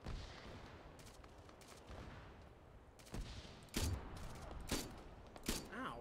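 Gunfire and a grenade blast in a military shooter video game, scattered sharp shots and bursts at moderate distance over a low rumble, with louder cracks and a thud toward the end.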